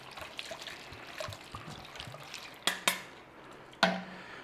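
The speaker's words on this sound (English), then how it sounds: "Rinse those chickpeas" Tinned chickpeas being rinsed in a bowl: a soft wash of water and light rattling under faint room noise, then a few sharp clinks and knocks of the bowl near the end.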